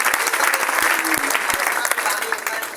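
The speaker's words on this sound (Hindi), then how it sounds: "उनके लिए भी जोरदार ताली" Loud audience applause at a Hindi-language event for students and youth in Ranchi, a dense, steady crowd of clapping hands filling the room for a few seconds.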